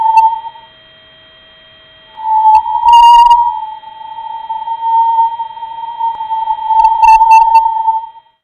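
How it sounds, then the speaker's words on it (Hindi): A sonified space recording of changing highly charged particles near the Sun sounds as a steady pure whistle-like tone that drops out briefly, returns and holds, with occasional faint clicks and crackles. "ये तीसरी ऑडियो हाई चार्ज पार्टिकल्स में होने वाले बदलाव की आवाज है।"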